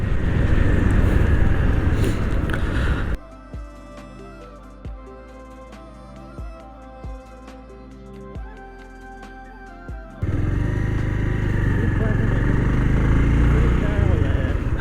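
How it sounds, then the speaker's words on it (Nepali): A motorcycle rides on a paved road in Rukum, Nepal, with loud wind-buffeted engine rumble at the start and end and a stretch of music in between. "रुकुममा पिच बाटोमा सरर बाइक चलाउँदै"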